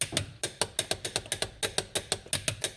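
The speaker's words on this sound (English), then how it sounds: "Set your torque wrench to 80 foot-pounds or 108 newton meters" Ratchet of a torque wrench clicking quickly and steadily, about sixteen sharp clicks, while tightening an outer tie rod on a 2010 Nissan Rogue AWD, close and alone with no voices.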